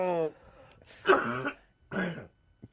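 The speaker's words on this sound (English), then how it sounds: "you're still wanting to cough" Someone coughs and clears their throat several times in short bursts, close by, with bits of voice between.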